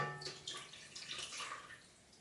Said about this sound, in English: then we'll pour in our milk and butter mixture